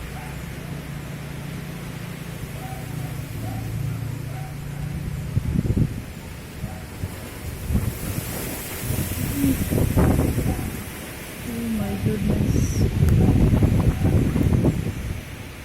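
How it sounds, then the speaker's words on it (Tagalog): Gusty tropical-storm wind roars and rustles through trees in surging waves, with no rain, and a person briefly exclaiming partway through. "Walang ulan pero grabe ang lakas ng hangin guys"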